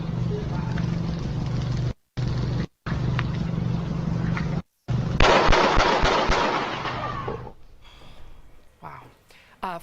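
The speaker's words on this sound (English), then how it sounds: "but you will hear the gunshots" Bursts of gunfire caught on a cell phone camera, a harsh, noisy burst-filled stretch cut by abrupt edits, growing denser and louder midway before fading into quieter scuffling, with voices underneath.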